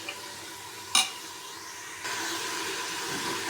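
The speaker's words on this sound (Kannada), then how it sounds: "ಚೆನ್ನಾಗಿ ಈ ಥರ ಎಣ್ಣೆಯಲ್ಲಿ ಫ್ರೈ ಮಾಡ್ಕೋಬೇಕು." Ivy gourd and mixed vegetables fry in oil for a sambar, a steady sizzle with one sharp scrape of a utensil against the pan, the hiss growing louder in the second half; no one talks.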